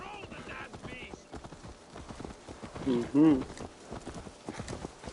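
Horse hooves clip-clop in Assassin's Creed Valhalla, a steady rhythmic trot under game dialogue and a brief spoken murmur, with a louder burst of noise near the middle.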